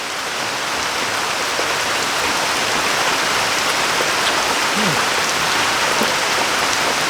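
Steady heavy rain pours down in a rural Thai farm setting, a dense, continuous hiss of drops on surfaces that stays loud and even throughout with no pauses.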